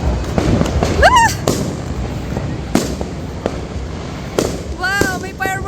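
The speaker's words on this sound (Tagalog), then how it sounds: "Wow, may fireworks mga chula!" New Year fireworks bursting in several sharp bangs and crackles, some with rising whistles, while people cheer and talk excitedly nearby.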